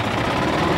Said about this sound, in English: The engine is engaged, and we are starting ascent.